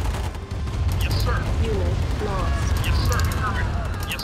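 Continuous battlefield gunfire and explosions from Command & Conquer Remastered, a steady loud rattle with a low rumble beneath, under a spoken voice giving orders.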